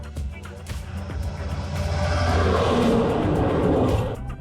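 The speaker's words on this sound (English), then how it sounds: "the log truck's coming the other way" A log truck passes in the opposite direction on a long highway, heard from inside a moving van. Steady road hum swells into a loud, close whoosh and rumble for a couple of seconds, then begins to fade.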